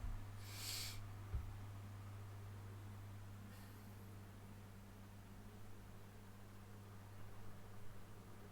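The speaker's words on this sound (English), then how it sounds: "We got pigeons here." Pigeons coo softly in the distance, muffled low calls over a constant hiss and hum with a faint thump, during a quiet online chess session.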